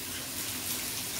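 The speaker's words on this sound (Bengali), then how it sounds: "এইবার আমি কচু শাকটা ঢেলে দিচ্ছি।" Taro leaves poured into a cooking pan give a steady, even rush like running water, moderately loud and close, with no talking over it.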